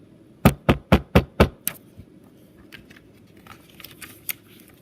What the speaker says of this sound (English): Then they heard a knock at the door.